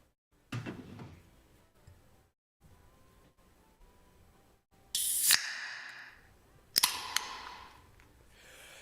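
A can of Schweppes ginger ale is opened with two sharp, close hisses and pops, the first crack followed by a burst of fizz and then a second, shorter release.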